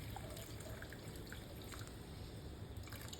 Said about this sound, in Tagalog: maglalagay na tayo ng tubig para sabaw